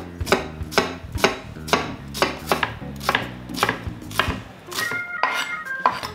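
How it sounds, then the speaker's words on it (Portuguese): Knife chopping an onion into small cubes on a board, a steady run of close, crisp chopping strokes with a brief pause before the rhythm resumes, no talking. "vou começar picando a cebola"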